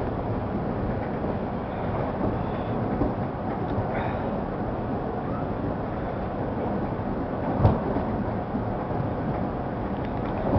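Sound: subway train passing

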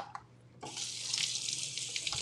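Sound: tap water rinsing a mango

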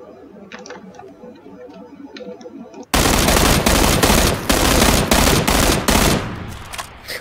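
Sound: gunfire in PlayerUnknown's Battlegrounds video game

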